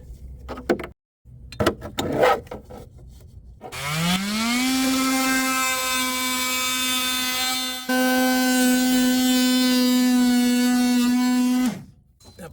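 An oscillating multi-tool buzzes steadily through ABS plastic while modifying a vehicle chassis, a loud, close, sustained whine of about eight seconds that follows a few short taps and bursts of handling noise and then cuts off.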